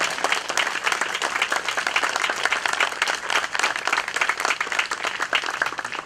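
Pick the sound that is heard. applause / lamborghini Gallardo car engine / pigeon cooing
applause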